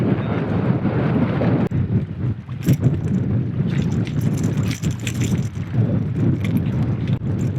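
Steady wind buffets the microphone on a boat while fishing for striped bass in an estuary, a continuous low rumbling roar with gusty swells and a few light knocks, close and fairly loud with no talk.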